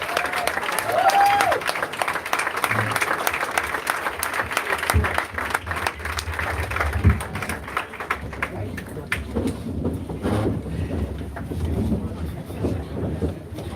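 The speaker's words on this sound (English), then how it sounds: "Let's give him another round of applause." A crowd at a New Hampshire potluck dinner applauds Andrew Yang after his speech, sustained dense clapping with some cheering that fades slightly toward the end, with wind buffeting the microphone.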